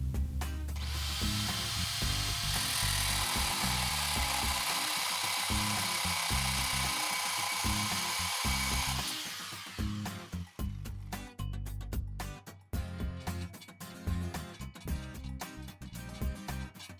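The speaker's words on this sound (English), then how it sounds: "Impact until the impact doesn't turn anymore." A power tool runs steadily for about nine seconds while an impact driver tightens a wall anchor rod through its plate and hardware, followed by choppy, intermittent bursts of rattling impacts and tool noise, loud and close.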